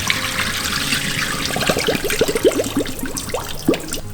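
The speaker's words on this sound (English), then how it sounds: "We're just gonna drain the water." Rinse water pours and trickles out of freshly washed napa cabbage leaves in a home kitchen sink, a steady wet splash with bubbly gurgles growing busier toward the end, close and moderately loud.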